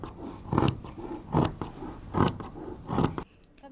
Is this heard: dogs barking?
no